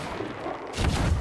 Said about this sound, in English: Somebody shot the barrel behind me.